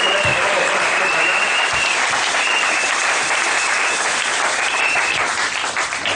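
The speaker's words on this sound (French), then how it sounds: "Alors je ne sais pas si on peut applaudir pour frère Branham" Congregation applauding for Brother Branham in a church service, a dense, steady wash of clapping from many hands that carries loud and unbroken throughout.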